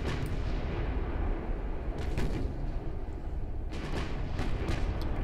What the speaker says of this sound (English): Oh, ammo detonation.